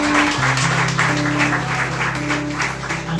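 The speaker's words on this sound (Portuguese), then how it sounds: "Pode dar uma salva de palmas ao Senhor." A church congregation applauds with sustained, dense clapping, while sustained organ or keyboard tones play underneath.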